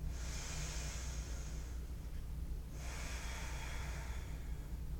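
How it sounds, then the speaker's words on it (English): Two slow deep breaths during a yoga flow, a soft airy hiss in then out with a pause between, quiet and close against a low room hum. "2 more deep breaths here."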